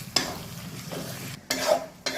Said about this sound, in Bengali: এবার এটাকেও ভালো করে কষিয়ে নেবো মশলার সাথে।